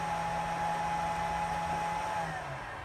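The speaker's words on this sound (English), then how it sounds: "I've got my inverter running my washing machine, as you can hear it going" A solar-powered washing machine running off an inverter gives a steady motor hum with a constant whine that drops slightly in pitch near the end, heard close and alone.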